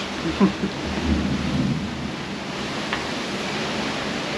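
Heavy rain roars steadily aboard a cruise ship at sea during a hurricane, with a low rumble of thunder near the start and a dense, constant wash of downpour throughout.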